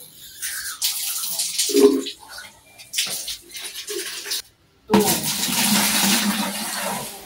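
Water gushes from a tap in uneven bursts while filling 15 litres for homemade dishwashing liquid, stopping briefly before running steadily again, close by with faint background noise.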